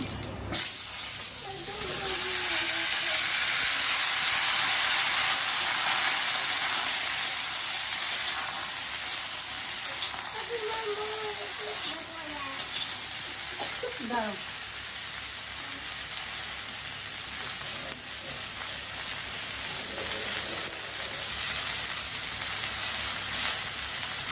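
A vegetarian vegetable curry cooking in a pan after oil has been added, giving a steady hiss and sizzle throughout, with occasional faint clinks and a voice talking quietly now and then.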